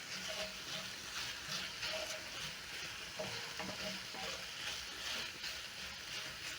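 Onions, garlic and ginger fry in a pan while cooking chips vuruga, giving a steady, even sizzle with faint stirring that runs the whole time and has no voices over it.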